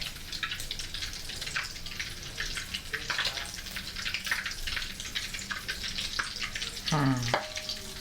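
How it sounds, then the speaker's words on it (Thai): Egg whites fry in hot oil with a busy, crackling sizzle full of sharp pops and spits, close and continuous, with a brief clatter near the end and no talk. "ไข่ดาวเราก็ เราทำไข่ขาวก่อน ทอดไข่ขาวก่อน"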